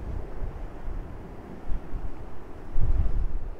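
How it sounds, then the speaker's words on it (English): Gusty wind at the Blackpool seafront during stormy weather rumbles across the microphone with low, uneven buffeting, moderately loud, and a faint wash like distant surf beneath. "it's a bit windy for working at this place here"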